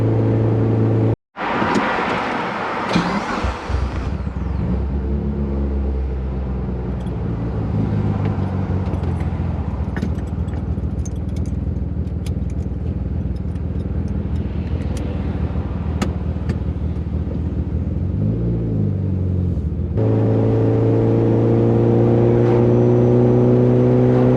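A tuned car with a swapped AGT red engine drives along, the engine revving and pulling through rising and falling tones, loud and near, with a sharp cut early on and a steady cruise drone near the end.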